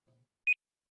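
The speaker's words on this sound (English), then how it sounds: "look at that, right before the beep" One short, clean electronic beep sounds alone in near silence, preceded by a faint low murmur.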